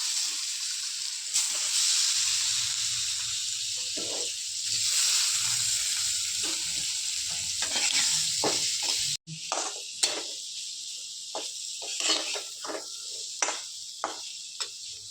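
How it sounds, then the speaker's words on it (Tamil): Paneer cubes fry in a pan with chili and coriander powder, a bright hissing sizzle up close, interrupted by a brief cut and then stirring clicks and scrapes, without speech. "இப்போ அந்த பன்னீர் எடுத்து போட்டு நல்லா பிறக்கி விட்டுருங்க"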